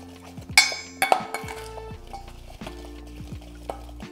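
A spoon clinks and scrapes around a bowl while maple syrup is stirred into the other ingredients, with a few sharp metallic taps near the start and then steady close stirring, no voices.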